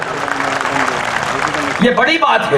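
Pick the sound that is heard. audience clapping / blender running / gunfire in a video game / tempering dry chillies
audience clapping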